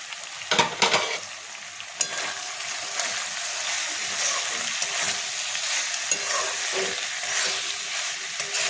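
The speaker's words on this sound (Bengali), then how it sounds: "দেখুন আমার লতি দিয়ে মশলাটা কষানো হয়ে গেছে।" Taro stolons cooked down with spice paste in a pan, a steady close sizzle and frying hiss with scraping stirs of a spoon near the start, no voices over it.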